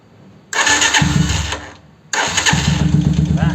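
A Honda 125Z motorcycle engine cranks and catches twice, each start rising into a loud, rough idle, close to the microphone with a brief dip between the two bursts.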